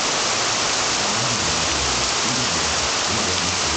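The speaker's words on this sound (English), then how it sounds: "Getting hard, coming down. Rain gutters are overflowing." Heavy rain pours steadily during a storm in Los Angeles, with gutters overflowing; a dense, continuous hiss of downpour close by with no talking.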